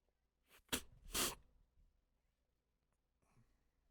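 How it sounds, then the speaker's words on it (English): A single close, sharp sneeze with a quick in-breath just before it, followed by a soft breathy exhale and near silence. "I have to sneeze."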